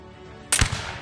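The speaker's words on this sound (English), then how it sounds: "Gunshot!" A single sharp gunshot bursts out partway through, loud and close, from a dramatized riot scene in snowy 1770 Boston, trailing off quickly.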